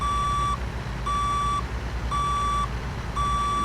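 Forklift reversing beeps in American Truck Simulator, four steady evenly spaced tonal beeps over a low rumbling engine drone.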